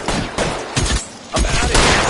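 Gunfire in the LA Noire video game: several loud, close bursts of shots in quick succession, separated by short lulls, with no voices over it.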